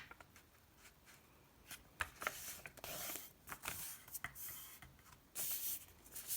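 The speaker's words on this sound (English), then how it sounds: "you're going to need to fold the paper half" Paper being folded in half for a paper cube Christmas tree decoration: soft, close crinkles and rubbing swipes come in irregular bursts, quiet and without voices.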